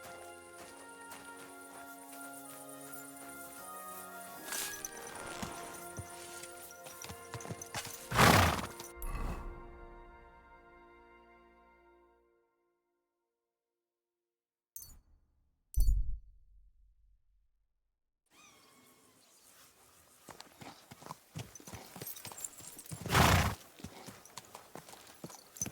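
Horse hooves clip-clop in the video game Kingdom Come: Deliverance II, with scattered close hoof thuds and a sharp loud burst or whinny among background game music and ambience, broken by a couple of near-silent gaps.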